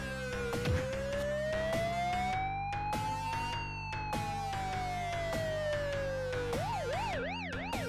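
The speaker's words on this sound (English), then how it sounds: "Whoop, whoop, it's the sound of the police." A police siren in a racing video game wails in long rising and falling sweeps, then switches to a fast warbling yelp. It is loud and steady over constant engine and game noise.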